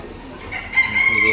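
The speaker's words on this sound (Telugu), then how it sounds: "ఇది ఒక కోడి" Chicken calls at a Kuwaiti animal auction, a short rising cluck or crow breaking out over a low crowd murmur and growing louder toward the end.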